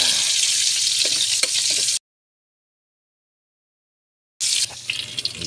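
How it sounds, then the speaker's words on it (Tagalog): Shrimp paste (bagoong) sautéing in a pan, a steady broadband sizzle with a few light stirring clinks, cutting out to silence midway before the sizzle resumes. "Gisa mo na itong bagoong para mabango"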